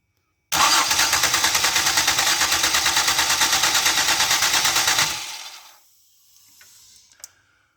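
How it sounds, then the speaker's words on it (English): A car engine cranks over about five seconds with a fast, even chug of compression strokes, loud and close, then stops, leaving faint rustles and clicks. "So I'm just going to let it crank over 5 times or so and see how much air pressure we can make."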